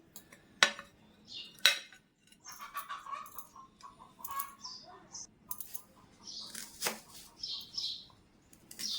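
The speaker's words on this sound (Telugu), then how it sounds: "ముందుగా మనం ఆనియన్స్ పచ్చిమిర్చి తరిగేసుకుందామండి" Knife chopping onions and green chillies on a board, a few sharp distinct taps spaced apart, with lighter scraping and clinking between them, close and clear without speech.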